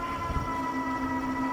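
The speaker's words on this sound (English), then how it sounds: "You can tell that noise you're hearing, like, that's it hitting the limiter." An Engwe L20 2.0 e-bike climbing a hill whines steadily as its motor tops out against the speed limiter, a sustained electric drone with a faint rumble underneath.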